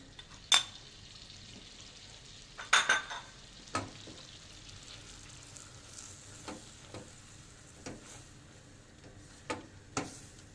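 White flour is stirred into melted butter in a pan to start a gratin sauce with potatoes and cauliflower. A soft sizzle runs under scattered scrapes and clicks of the utensil against the pan.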